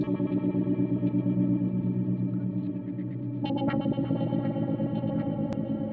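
Pedalbrainz Left Brain effects pedal producing ambient, stretched-out chorused tones: a sustained, shimmering layered drone with warbling modulation, steady and unbroken, with a few faint higher notes entering midway.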